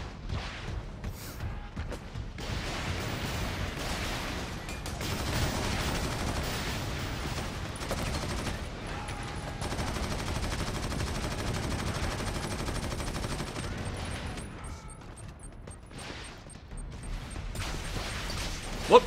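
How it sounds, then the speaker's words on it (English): Gunfire in the Warhammer 40,000: Eternal Crusade video game, dense bursts of automatic weapon fire and scattered shots rattling continuously over a cluttered battle soundscape, moderately loud with a brief lull near the end. "Who's shooting me?"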